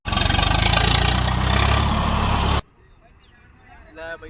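A tractor carrying sacks in a flooded village runs close and loud with a steady, rumbling engine drone that cuts off abruptly, leaving quiet background noise and faint voices.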